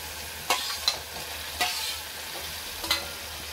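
Cut bombil fish frying in hot oil while being gently stirred, a low steady sizzle punctuated by four or five light scraping clinks of a spatula, quiet and close with no talking.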